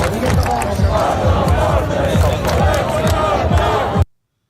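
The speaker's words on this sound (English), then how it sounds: "multiple people screaming the crass comments while clapping their hands" A crowd of many people shouting and chanting together, with hand claps running under the voices, loud and continuous for about four seconds before it cuts off abruptly.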